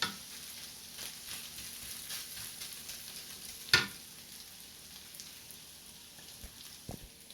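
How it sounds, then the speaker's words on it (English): Onions caramelizing in a frying pan for beef spaghetti Alfredo give a faint, steady sizzle, broken by a sharp clink near the middle and a soft knock near the end. "Let my onions caramelize a little more."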